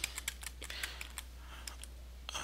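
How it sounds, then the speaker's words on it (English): Fingers type a command on a computer keyboard in quick, irregular bursts of light clicks, faint and close over a low steady hum. "I'll type Yokomoms"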